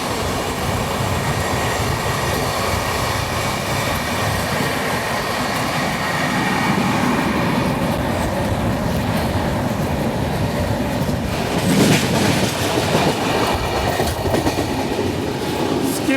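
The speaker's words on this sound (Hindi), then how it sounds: "यहाँ पे हमारे ट्रेन की क्रॉसिंग हो रही है बिलासपुर नागपुर वंदे भारत एक्सप्रेस के साथ" From aboard the Nanded–Santragachi SF Express, a loud steady rush and rattle of rolling wagons fills the cabin as the Bilaspur–Nagpur Vande Bharat Express passes alongside, with a brief surge of clatter midway.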